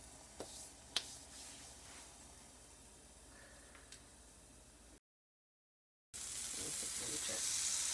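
A grilled cheese sandwich of crusty cheese bread fries in a pan with a steady sizzle, broken by a short silent gap and returning louder, with a few faint clicks and taps from utensils.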